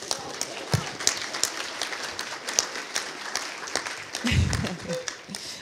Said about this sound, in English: So a round of applause for Fiona.